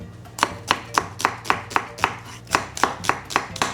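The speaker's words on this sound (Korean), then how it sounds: "양파 반쪽 준비해 주시고요, 얇게 슬라이스 썰어 준비해 주세요" Half an onion sliced thinly with a knife on a cutting board, about a dozen crisp, evenly spaced chops in a steady rhythm, close and clear with no talking.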